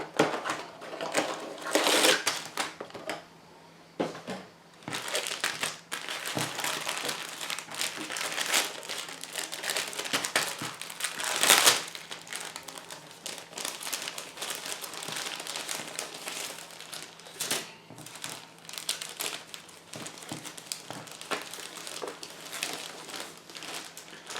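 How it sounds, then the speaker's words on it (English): Packaging of a 1/72 scale Tempest V model kit crinkling and rustling as the box is opened, with repeated close, crisp bursts of plastic and paper handling at moderate volume. "So let's open the box and see what we have inside."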